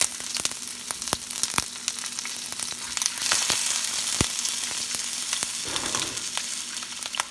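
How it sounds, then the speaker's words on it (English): Chicken feet pan-frying for dim sum, a dense, continuous sizzle with crackling oil and scattered sharp pops and scrapes, close and fairly loud throughout. "We'll just pan fry it and wait until it gets brownish a little bit."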